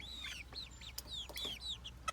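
Young chickens cluck and cheep softly while foraging, a faint scatter of short chirpy calls close by.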